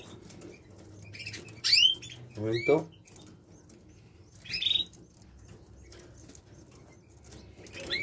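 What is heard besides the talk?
pigeon chick fluttering and chirping while being ringed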